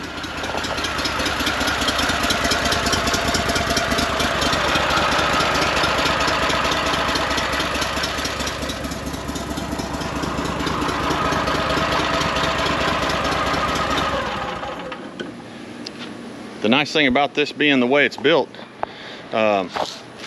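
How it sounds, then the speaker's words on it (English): An air-cooled Pro Drive boat motor runs with a loud, steady mechanical drone for about fifteen seconds, then cuts out, leaving a quieter background where a person starts talking. "the reason that I went with this motor is that it's an air-cooled motor."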